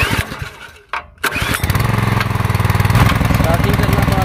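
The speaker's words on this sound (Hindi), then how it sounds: "अभी हम इसको करते हैं स्टार्ट, सिंपली यहाँ से करते हैं। अभी इसकी आवाज़ वगैरह सुनते हैं।" A Neptune portable petrol water pump engine, choke on in cold weather, cranks with a short pull, catches after a brief pause, then settles into a loud, steady chugging idle close by, with a voice briefly at the start.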